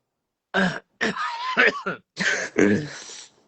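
A person clears their throat several times in short, harsh bursts, close and fairly loud, with brief pauses between.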